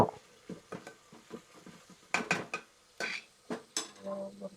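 Onions frying on a low flame are stirred in a pan, making a run of close, uneven metallic scrapes and clinks from the utensil against the pan over a faint sizzle.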